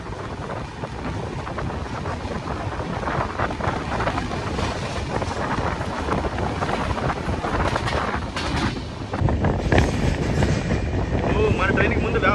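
A WAP-7 electric locomotive hauling the Coimbatore–Bengaluru Uday double-decker express pulls into a station, a broad steady rumble and rush of wind that swells louder near the end, with no clear voices over it.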